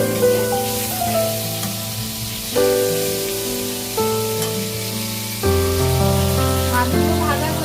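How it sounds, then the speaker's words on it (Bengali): Fish sizzling and spitting steadily in hot frying oil, a continuous hiss kept under loud tonal background music throughout. "মাছগুলোকে ভাজতে থাকবো"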